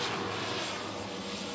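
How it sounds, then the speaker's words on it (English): A fixed-wing airplane passing overhead, a loud steady engine roar that fills the short stretch evenly with no voices over it. "What color is the plane?"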